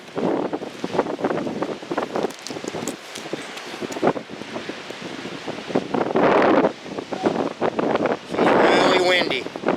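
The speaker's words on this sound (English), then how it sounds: "It's really windy. You're probably hearing it in the microphone." Strong wind buffets the microphone on the Oregon coast, rumbling and gusting in loud waves, with a person talking beneath the roar.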